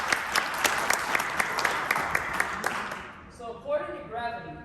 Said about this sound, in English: Give them a round of applause, people